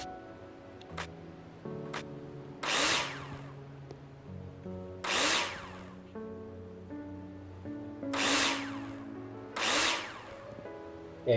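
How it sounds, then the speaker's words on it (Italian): A power drill in the game Builder Simulator drives screws into profiles, with four short, bright whirring bursts spaced a couple of seconds apart over a soft background music bed. "Adesso il trapano."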